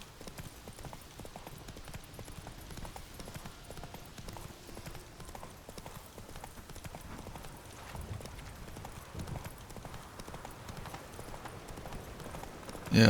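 Roach, a horse in a video game, gallops steadily with a continuous rhythmic clip-clop of hooves at moderate volume.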